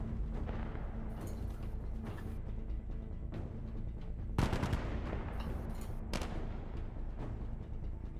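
An MG3 machine gun firing in the video game Insurgency: Sandstorm, rapid bursts of automatic fire with heavy low booms and a sharp, loud volley midway, ongoing battle sounds throughout.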